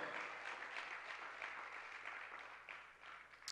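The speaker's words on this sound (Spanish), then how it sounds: "denle fuerte esas palmas al Señor" A church congregation applauds together in continuous, even clapping that holds steady at moderate level before tapering slightly at the end.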